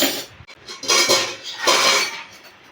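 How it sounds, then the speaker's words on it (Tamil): Steel spoons and cutlery clink and clatter while being packed, in a few close, loud bursts of rattling metal with short pauses between them, and no talking. "அப்புறம் ஸ்பூன் எல்லாம் எடுத்துக்கலாம்."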